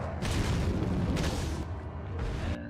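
Grenade and flash grenade blasts in the video game Resident Evil 4 go off as a dense run of loud, booming explosions with rumbling low end and crackling bursts, layered over one another with brief lulls between.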